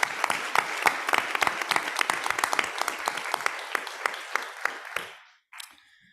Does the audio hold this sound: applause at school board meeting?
yes